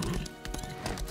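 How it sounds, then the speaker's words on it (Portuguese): A horse's hooves clip-clop in the Lost Ark video game, a quick rhythmic run of hoofbeats at moderate distance over faint game background sound. "Cavalo, sim. Cavalo."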